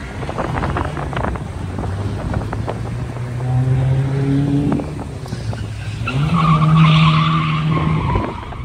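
Drift car tires squeal and skid in long rising tones over a revving engine and wind roar at Jackson Speedway, loud and close from inside the car.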